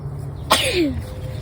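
A single sharp sneeze bursts out close by, loud and sudden, over a low background hum.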